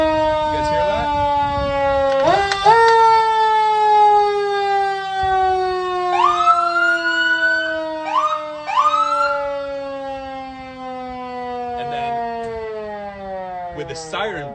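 A fire engine siren worked by a foot pedal wails up and down, rising and falling in long sweeps with sharp yelping bursts, loud and close from the cab.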